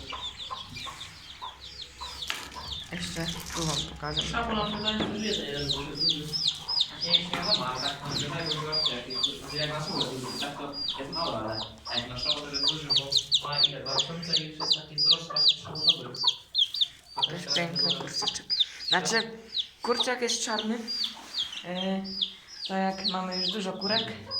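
Chickens in a coop cluck repeatedly in bursts, close and clear, with a person talking in between and over them.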